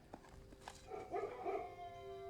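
Dogs barking and yipping in the video game Blue Prince: a short burst of a few close, clear barks and whines, heard alone without talk.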